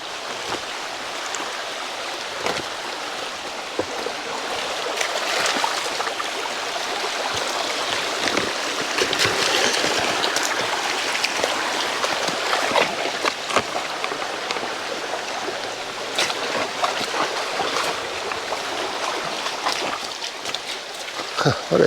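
Creek stream flowing past a log jam, a steady watery rush with small splashes and gurgles that swell and ease slightly, with faint scattered clicks over it.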